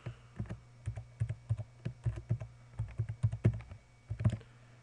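Someone types a password on a computer keyboard, a quick irregular run of close, crisp key clicks and taps in a quiet room, with no talking.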